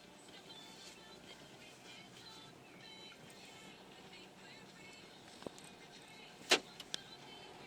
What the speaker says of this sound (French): Donc je préfère y aller en voiture.